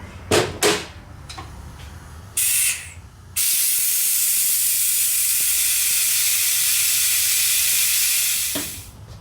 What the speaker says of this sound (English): if you got like a Mighty Vac like this, you can do it with your air hose and make it go faster